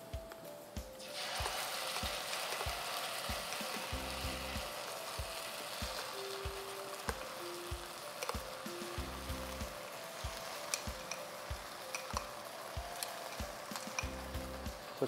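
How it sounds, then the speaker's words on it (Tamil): Tomato puree hits a hot pan of cauliflower pepper fry and sizzles steadily, with repeated scraping stir strokes and occasional clinks of a spoon against the pan throughout. "இந்த தக்காளி விழுது சேர்த்துக்கிறேன்"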